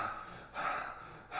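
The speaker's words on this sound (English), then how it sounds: "You gotta be breathing." Heavy, forceful breathing demonstrated during a workout stream, with two long rasping breaths separated by brief pauses, close and fairly loud, no talk over it.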